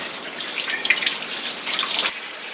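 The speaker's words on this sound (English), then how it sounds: "then you pull the guts, rinse it out." Running water rinses out a gutted pond-caught fish, a bright splashing, trickling stream close by for about two seconds before cutting off, with no talking.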